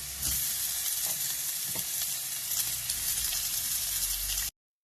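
Bacon sizzles and fries steadily in a pan with garlic and onion, a dense, continuous close crackle with a couple of brief stirring knocks and no talking.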